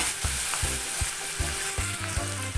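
Ground spices such as coriander-cumin powder and masala hit hot oil with ginger and garlic, giving a steady, close sizzle and crackle with a few soft stirring knocks and no talk.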